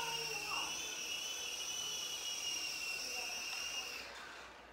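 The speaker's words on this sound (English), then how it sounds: "See how well I can land this thing." A high, whining rotor and motor hum from a small Sky Rover Vigilante RC helicopter holds steady, then fades out as it winds down at the end.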